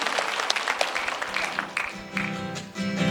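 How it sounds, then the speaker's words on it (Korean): Audience applause fills a concert hall at a volunteers' festival healing concert in Jecheon, with scattered claps mixing into tonal music that rises underneath and continues after the clapping thins. "마음에 드시면 박수! 힘차게!"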